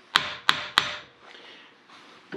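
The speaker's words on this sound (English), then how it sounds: "I take just a small hammer and I'll give it a tap" A small hammer strikes a Harley Davidson front fork tube drain three times in quick succession, each tap sharp and close, followed by quiet handling noise.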